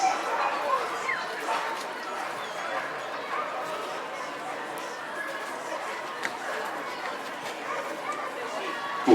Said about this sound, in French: Dernier chien, dernier malinois,